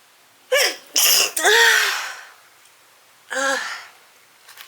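A woman in cosplay holds back sneezes: two sharp stifled bursts with quick gasping intakes, then a longer breathy release, and one more muffled sneeze after a short pause, all close and with no talking.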